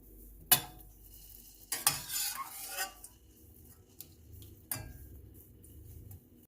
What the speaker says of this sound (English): A good stir so that there are no clumps.